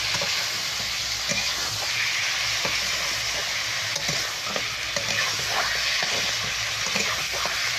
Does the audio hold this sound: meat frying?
yes